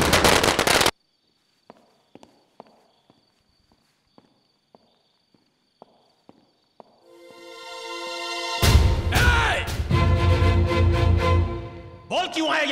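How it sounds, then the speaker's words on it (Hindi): Firecrackers going off at a celebration: a quick string of sharp, isolated pops spaced out over several seconds, then a dense, loud burst of crackling explosions with a rising whistle and heavy noise toward the end. "जलने दो पटाखों को, होने दो जश्न।"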